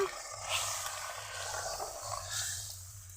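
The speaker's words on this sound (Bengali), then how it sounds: "কত সুন্দর টকবক করে ফুটছে" Fish curry gravy bubbles and simmers in a pan, giving a soft, steady boiling hiss with gentle popping that stays faint and continuous throughout, with no voices.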